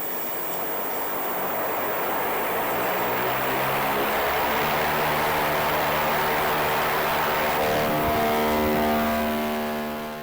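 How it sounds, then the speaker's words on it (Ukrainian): The Ingenuity helicopter flying on Mars gives a loud, continuous whirring rotor drone that swells and rises in pitch as it passes, then fades slightly at the end, with no voices. "Схоже на вертоліт, правда? Так, це і є перший в історії коптер, що літає в атмосфері не Землі, а іншої планети."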